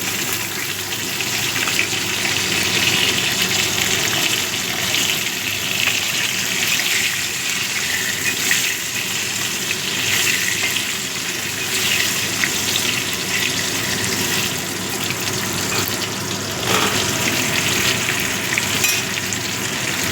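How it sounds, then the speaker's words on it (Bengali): Potatoes and kohlrabi fry in tempered spices in a pan for a prawn curry, giving a steady, dense sizzle that runs unbroken throughout with no talking. "আলু আর শালগম বা ওলকপিগুলো"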